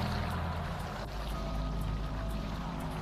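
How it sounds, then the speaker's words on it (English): A cauldron being stirred in a video game gives a steady, continuous wash of bubbling, sloshing liquid that stays loud and even, with no pauses, throughout. "Let's stir it up."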